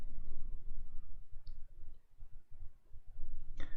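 A single sharp computer mouse click lands near the end, preceded by a fainter tick earlier, over a low room hum on a PC.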